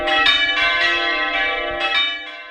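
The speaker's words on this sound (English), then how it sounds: "could bell ringing soon become a thing of the past?" Church bells pealing in a rich, ringing sequence, several bright strikes overlapping with long resonant tails, close and clear with no voices.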